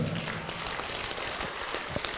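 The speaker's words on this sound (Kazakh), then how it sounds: "Бір шапалақ ұрсаңыздар жарасады" Audience clapping at a Kazakh family celebration for an 80th birthday, a steady dense patter of many hands that stays even throughout.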